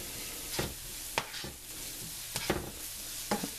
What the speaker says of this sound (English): so I am sweating my onions and my garlic, sauteing them all together